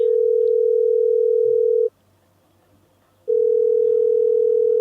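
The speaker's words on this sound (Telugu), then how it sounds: "రింగ్ అవుతోంది." Outgoing telephone call ringback tone, a steady loud electronic hum that plays for about two seconds, pauses briefly, then resumes, heard alone without voices.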